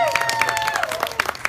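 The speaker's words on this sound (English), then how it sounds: "Give our windmills a big round of applause." Short burst of audience applause and light cheering for a comedy act, close clapping mixed with crowd voices and a whistle-like tone, fading slightly toward the end.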